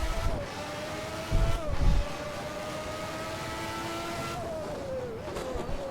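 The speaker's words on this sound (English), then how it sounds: "Bouncing off the rev limiter there." A McLaren MP4/6 with a Honda V12 screams at full power in the racing game Assetto Corsa, a loud, sustained high-revving wail held near the rev limiter, with brief low thumps and pitch dips as it shifts.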